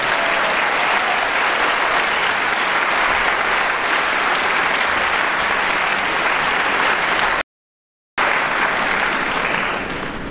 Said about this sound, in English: I really think they deserve a round of applause.